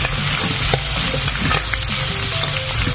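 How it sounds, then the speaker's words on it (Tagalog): Sinanglaw, an Ilocano beef dish, being stirred in a hot pan: a loud, close, continuous sizzle with scraping and clinking of the utensil against the pot, no voices. "muli natin balikan at haluin."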